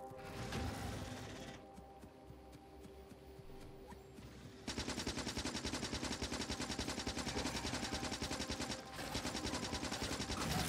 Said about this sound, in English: God damn it, guns.